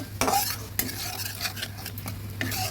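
A soaked paste of cumin, coriander, chilli and turmeric powders fries in oil for a tengra fish curry, sizzling up close while a spoon scrapes and knocks against the pan in quick repeated strokes.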